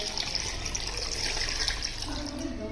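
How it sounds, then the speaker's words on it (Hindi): Water is poured from a one-litre measure into a pressure cooker holding beef for karahi, a steady close splashing rush with no pause. "अब इसके अंदर हम डालेंगे पानी।"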